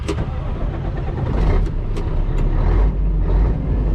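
Scania 6x6 V8 off-road truck, a loud, close engine that rumbles steadily and builds slightly, with a few sharp clicks and knocks over the low drone.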